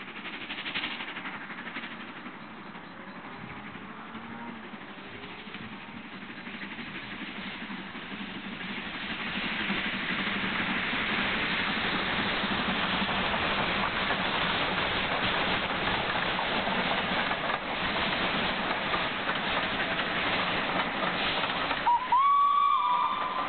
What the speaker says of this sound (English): The engine is seen here climbing out of Bridgnorth at Daniel's Mill with a train for Kidderminster